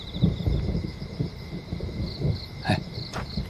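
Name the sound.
thunder before rain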